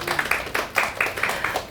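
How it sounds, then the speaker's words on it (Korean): Audience clapping at a book talk in a small room, a short burst of about seven rhythmic claps spread evenly over under two seconds, moderately close and without voices. "박수 한 번만 치고 시작할까요?"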